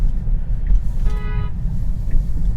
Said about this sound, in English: I don't know if you heard that, but I got honked at.